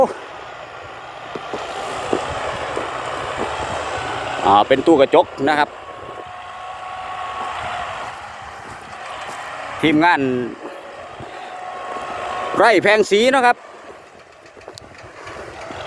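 A Massey Ferguson diesel tractor engine runs steadily throughout while someone talks over it, with a few louder bursts of noise interrupting now and then.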